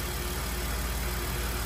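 A car engine idles with a misfire caused by a partly pulled spark plug wire, a steady close rumbling drone throughout with no talking.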